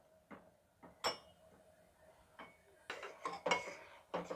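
A spoon stirring palm jaggery dissolving in water in a pot, giving sparse metallic clinks and scrapes that grow more frequent toward the end, quiet and close.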